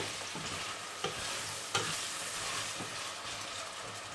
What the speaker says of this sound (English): while the onion browns off and reduces down a little bit